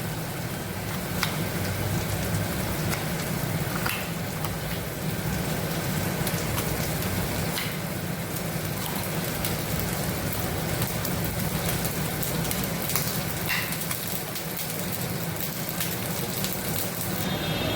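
Spice paste with salt and ginger paste frying in a pan, a continuous close crackling sizzle like rain on a surface, steady and moderately loud throughout with no talk.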